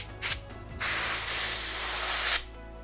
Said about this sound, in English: But I have an air compressor, so I'm just going to blast it out